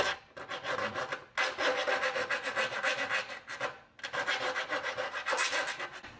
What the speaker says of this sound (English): So I'm going to use a round file.